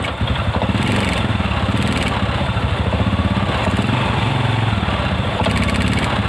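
A motorcycle engine with a faulty, flooding carburetor and the choke on runs loud and close, a steady rough, sputtering drone with uneven pulsing as the throttle is opened, no one talking.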